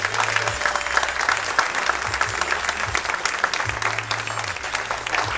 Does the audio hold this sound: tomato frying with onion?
no